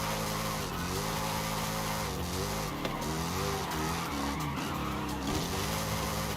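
Car drifting in Forza Horizon 5 with continuous loud tire squeal over a steady, revving engine drone, the pitch sliding up and down as the car slides and the throttle is worked throughout.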